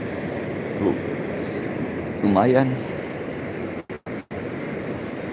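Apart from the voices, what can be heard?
large ocean waves breaking on a beach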